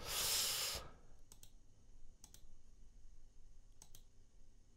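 A computer mouse clicks a few times, in sharp, quiet double clicks spread across a hushed room after a brief loud rustle at the start, with no speech.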